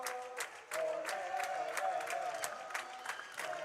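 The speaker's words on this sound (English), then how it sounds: "The crowd is getting really excited." Excited fans in a gym crowd at a college women's volleyball match clap in a steady rhythm and cheer, while a commentator talks over the noise.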